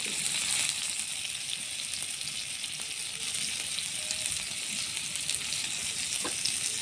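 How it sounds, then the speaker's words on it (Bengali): Sliced onions fry in hot oil left over from frying prawns, giving a steady, close hiss of sizzling with a few faint scrapes of stirring and no talking. "তেলের মধ্যে দিয়ে দেব পেঁয়াজ কষি বেশ কিছুটা দেব পেঁয়াজ"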